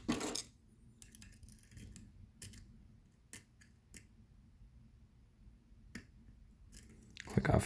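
Small, sharp metallic clicks from pins setting in a lock during a challenge lock picking session, scattered one at a time across a quiet background, close and faint, with a louder rustle at the start and end.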